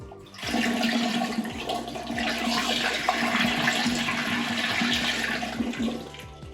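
Beer wort for a Belgian saison pours through a funnel into a fermenter, making a continuous rushing splash that stays loud and close for about six seconds before tapering off.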